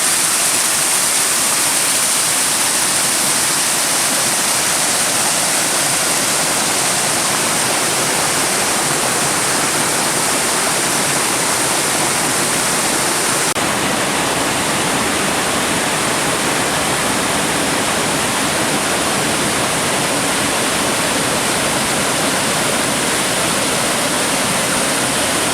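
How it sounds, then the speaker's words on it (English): A large waterfall in a steep mountain gully roars as a loud, steady broadband rush of falling water, constant and close throughout with no voices. "Halfway up the large waterfall, and the trail does go, so I should be able to top out no problem."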